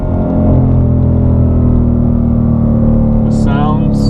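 A 2020 Shelby GT500 in track mode with manual shifting gives off a loud, continuous engine roar and rumble, heard from inside the car and holding steady throughout.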